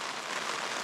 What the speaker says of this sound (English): I'm in my tent right now. It's raining.